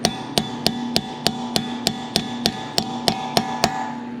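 A hammer strikes a tool under the lip of a 2015 Subaru STI clutch nut to bend up its locking tab, a dozen sharp ringing metallic blows at an even rhythm, close and loud.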